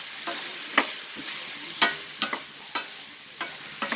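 Two green chillies frying in a pan for broad beans sambar, a steady soft sizzle broken by sharp stirring scrapes and clicks every half second or so, close up, with no voices.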